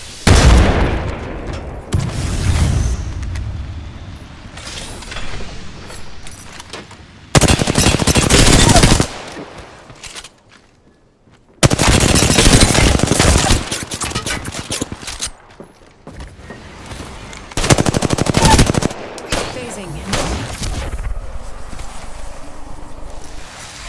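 Heavy automatic gunfire during a firefight in Apex Legends, with loud bursts of shots that come in separate volleys, quieter gaps between them and some footsteps in the background.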